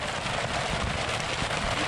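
Dense, steady rainfall during a thunderstorm hisses on a surface nearby, an even wash of drops with no pause.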